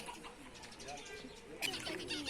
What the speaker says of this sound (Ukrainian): А там голуби на криші сидять.